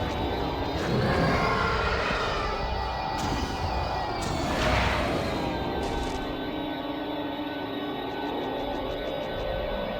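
Starfighter engines roar and whine continuously in a Star Wars Battlefront 2 space battle, with whooshing passes and impact crashes mixed in, no voices.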